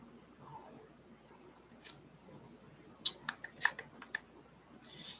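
Tarot cards being shuffled by hand, a quiet stretch followed by a quick cluster of crisp snapping, riffling clicks near the end, faint and close.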